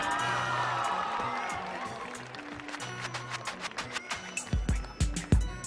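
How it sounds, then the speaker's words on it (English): Audience at a youth showcase on the Millennium Stage claps and cheers after a performance. Scattered whoops and crowd noise come first, then sharper, louder claps build toward the end. "Let's give them a big warm round of applause."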